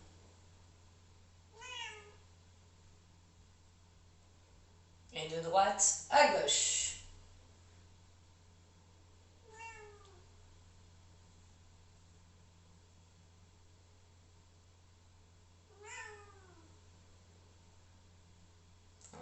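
A cat indoors meows to be let out onto a balcony, three short, faint, well-spaced meows against a low steady fan-like hum, with someone briefly speaking between them.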